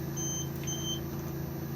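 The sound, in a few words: caravan fridge 12-volt control panel warning beep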